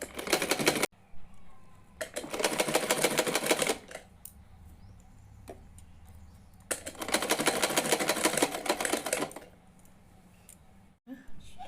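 A sewing machine stitches a floor-length gown made from a saree, running in two long bursts of rapid, even mechanical whirring, close and loud, with quieter pauses in between.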